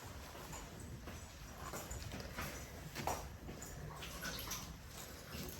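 Hot water poured at breakfast time gives a soft, continuous splashing trickle, fairly faint and close, with no one speaking over it.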